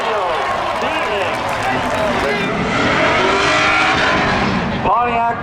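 Race cars roar together in a spectator drag race at Seekonk Speedway, a Pontiac Firebird against a Chevy Camaro, their loud engines swelling as they accelerate past, with an announcer talking over the din.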